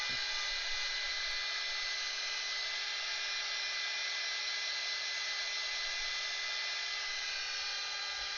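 Hair dryer blowing steadily on watercolour paint on paper pages, a constant close whine and rush of air with no change across the whole stretch.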